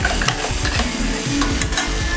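Masala paste frying in hot oil for a spicy fish dish, a steady close sizzle with repeated stirring scrapes against the pan and no voices.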